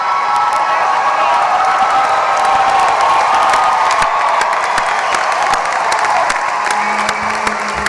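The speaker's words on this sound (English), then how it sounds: "You throw the cap in the air and we'll all applaud." A large crowd at a 2014 MGSC graduation ceremony bursts into loud, sustained applause and cheering after graduates toss their caps, the clapping dense and continuous throughout.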